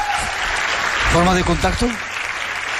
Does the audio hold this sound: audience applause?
yes